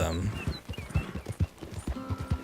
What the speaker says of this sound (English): You see all those horses that just kind of like appeared there?